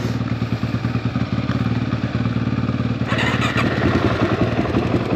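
A Suzuki DRZ400E trail motorcycle engine cranks and catches, its single-cylinder thump settling into a steady, close, loud idle with a rougher surge partway through, and no voices.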